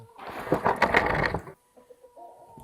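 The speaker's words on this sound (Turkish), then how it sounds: "Bunlar da bizim yumurta ihtiyacını karşılayan tavuklarımız." Egg-laying farm hens cluck in a loud, busy burst for over a second, then softer scattered clucks and calls follow in a quiet, drought-hit farmyard.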